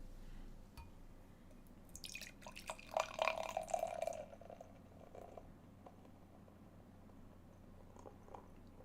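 Imperial Stout beer poured slowly into a glass, a faint liquid trickle and glugging that swells for about two seconds mid-clip over a steady low room hum, with no talking.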